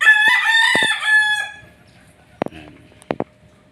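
Young Gilmore Hatch gamefowl cockerels, one giving a loud, close crow lasting over a second, followed by a few short, sharp clucks after a pause.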